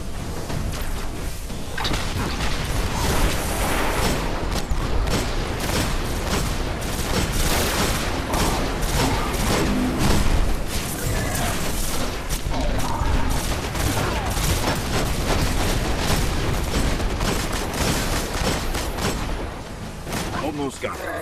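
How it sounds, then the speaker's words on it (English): Grenade blasts and gunfire from the video game Destiny form a dense, loud, continuous barrage of booms, rattling shots and whooshes that runs for over twenty seconds. "As soon as they drop, throw out a couple grenades."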